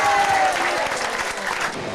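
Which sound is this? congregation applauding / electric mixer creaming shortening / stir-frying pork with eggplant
congregation applauding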